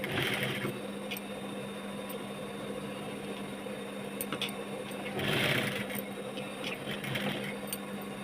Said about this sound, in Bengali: এবার সোজা দিক থেকে একটা সেলাই দিয়ে নেব।